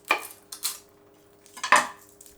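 Kitchen knife trimming the root ends off garlic cloves on a cutting board: three crisp chopping taps spaced apart, near and clear with no talking.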